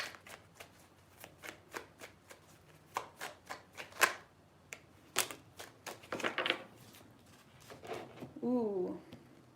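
Tarot cards being shuffled by hand, repeated crisp riffles and slaps close up, fairly quiet, with a voice briefly speaking near the end.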